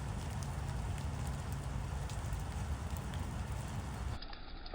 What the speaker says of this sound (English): By the afternoon, the rain really started coming down.